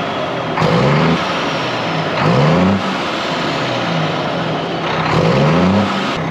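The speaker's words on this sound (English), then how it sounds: "I can give you some Cummins noises, because why not?" Stationary Cummins-powered Scania truck engine revved repeatedly, three or four loud close blips rising and falling over a steady idle.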